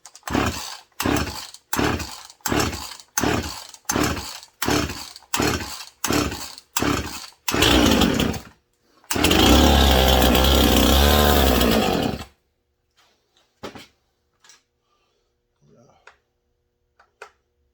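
A Husqvarna 51/55 chainsaw with a freshly cleaned carburetor and new fuel line, a dozen sharp pull-cord rattles in steady rhythm, then a brief loud running burst of the engine before it dies, followed by faint clicks.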